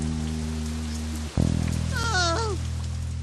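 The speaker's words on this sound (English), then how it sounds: "Rain coming, yay!" Steady rain hiss falls throughout, with sustained tonal hums and a rising-and-falling whistle-like squeal partway through, plus a brief dip and thump near the middle.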